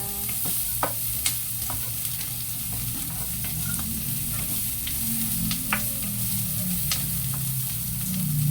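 Onions sautéing in a pan for a mixed-vegetable ginisa, a loud continuous sizzle with scattered sharp clicks of a utensil stirring against the pan, no talking.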